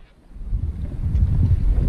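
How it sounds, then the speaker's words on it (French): Blustery wind buffets the microphone aboard a sailboat off Île de Ré, a low rumbling roar that swells after a quiet start and keeps gusting steadily with no voices. "il y a un peu de vent, hein, ça se voit"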